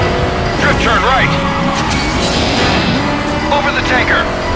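Car drifting through a right turn in the Stuntman Ignition video game, with rising and falling tire squeals over steady engine roar and a voice talking throughout.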